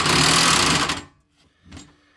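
Electric impact wrench loosening a rusty fuel tank bolt on a GMC Jimmy or Chevy Blazer, one loud buzzing hammering burst about a second long, then quiet and a brief softer rattle.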